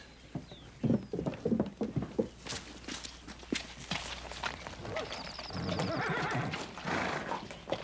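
A horse neighs and whinnies in a Western television series scene, with irregular clip-clop hoofbeats and scuffing steps close by, sharp bursts over a quieter background.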